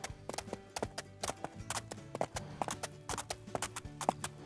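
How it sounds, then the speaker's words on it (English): In the Animal Shelter Simulator video game, a ridden horse's hooves clip-clop in a quick, even rhythm, each step crisp and close, continuing steadily without a break. "You're a good riding horse."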